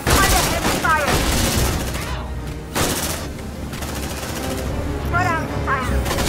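Squad of marines firing rifles in a sci-fi combat game, with dense bursts of gunfire that stop briefly and then resume, loud and close, under shouted voices.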